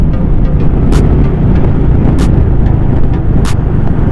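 A Royal Enfield Meteor 350 single-cylinder motorcycle cruises at about 80 km/h. It gives a loud, steady, close-up rumble mixed with heavy wind roar, with a few brief hissing bursts on top.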